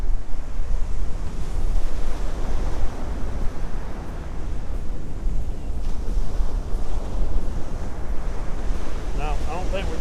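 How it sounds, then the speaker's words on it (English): Winter ocean surf crashes steadily on a beach during surf fishing, loud continuous wash with wind buffeting the microphone. "We got a lot of waves crashing"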